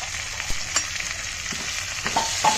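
Curry leaves fry in hot ghee for a dal tempering, giving a steady loud sizzle with scattered pops and crackles throughout, close up and with no talking.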